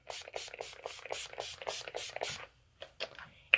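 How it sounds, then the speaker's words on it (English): Makeup finishing spray is pumped from a bottle in a rapid run of about a dozen close, crisp misting bursts. A short quiet follows, then a few light clicks or taps. "I'm going to spray with my finishing spray to lock in my color for 16 hours"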